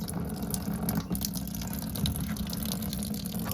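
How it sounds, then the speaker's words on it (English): Engine coolant drains from the radiator of a 2009-2015 Toyota Venza, a soft steady trickle of liquid running quietly and continuously. "Let it all drain."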